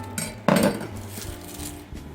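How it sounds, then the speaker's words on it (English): A knife cutting the base off a whole pineapple on a board, a sharp thunk of the blade hitting the board followed by a brief crunchy slicing rasp and a light tap near the end. "The easiest way to cut a pineapple, slice off the base, with a nice firm place to stand."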